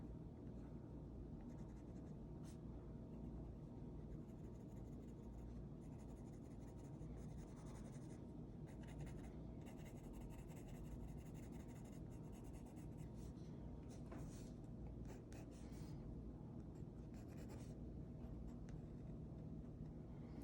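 A pencil draws lines on paper, producing a steady, very quiet scratching and rubbing that continues without a break and sounds close.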